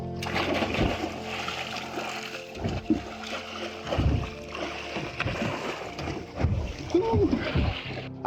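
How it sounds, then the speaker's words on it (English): Splashing in salty Mediterranean sea waves from a solar-powered boat on a sunny day, irregular sloshes and splatters of water with thumps and movement, steady and close throughout. "I'm gonna take my first swim now in the salty waves."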